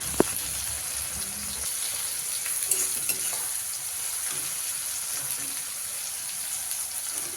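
Chopped tomato frying with onions in a pan, a steady close sizzle with occasional stirring scrapes, continuous and fairly loud with no talking.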